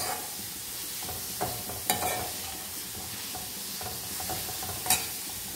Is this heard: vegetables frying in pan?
yes